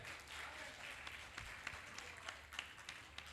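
A comedy show audience claps faintly and distantly, scattered louder hand claps poking through a soft wash of applause.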